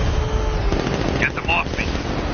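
Gunfire in Batman Arkham Knight during a vehicle chase, a dense rattling clatter filling the clip under a constant engine-like rumble, with brief tonal game effects midway; voices shout over it.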